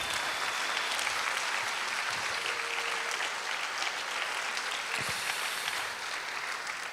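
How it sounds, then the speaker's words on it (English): An audience at a senior awards ceremony and scholarship presentation breaks into sustained, even applause, a dense wash of many hands clapping together that fills the room throughout. "Yeah, you should probably clap for that."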